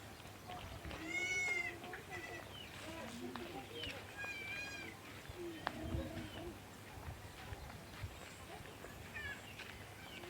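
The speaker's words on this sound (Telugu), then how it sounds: "మేకలు" Goats bleating a few times at a moderate distance in a remote forest village, with people talking in the background amid faint outdoor ambience.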